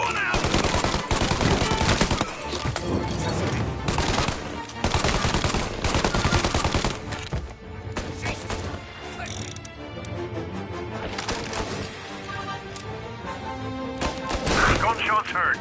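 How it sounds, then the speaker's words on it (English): Rapid bursts of video game gunfire crackle in loud clusters across the whole stretch, mixed with game sound effects and music, while voices talk over the action. "Gunshots heard"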